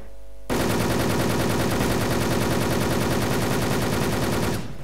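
Rapid automatic gunfire from the online shooter WolfTeam bursts in after a brief quiet start and rattles on loud and continuous for several seconds before cutting off, with no voices over it.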